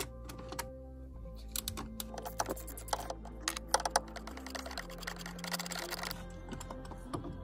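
An E10 socket on a long, wobbly extension works a bolt loose in a Porsche Cayman/Boxster 3.4 engine bay, giving faint, quick ratchet clicks and small metal ticks over a low hum.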